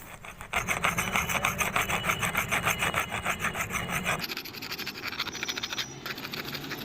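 An iron earthing rod is scraped with stone and brick in steady, rhythmic rasping strokes, loud and close, with the grinding tone shifting partway through.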